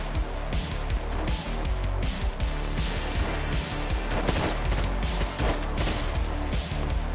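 Rapid video game gunfire in Gunsaw, dense bursts of sharp shots and crashing impacts in quick succession, loud and continuous over several seconds.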